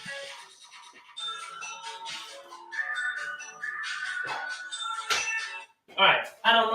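A mobile phone ringtone plays a repeating electronic melody for several seconds, fairly clear and close, followed by a brief spoken voice near the end.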